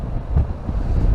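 Steady wind buffeting against the microphone while riding a BMW R 1250 RT motorcycle in changeable weather, a continuous low rushing roar with no voices.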